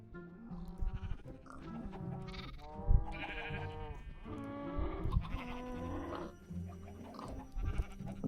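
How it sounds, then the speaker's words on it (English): Sheep bleating in the modded Minecraft pack All The Mods 10, a series of loud, wavering bleats repeating across several seconds with overlapping calls, with no talk over them. "There's a sheep out here!"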